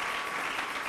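Congregation at a Sunday church service applauding together in a sustained burst of clapping, dense and even with no gaps, fairly loud.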